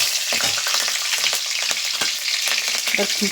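Green chillies and whole cumin seeds sizzle and crackle steadily in hot oil, a loud close, continuous frying hiss with small pops and spatters throughout.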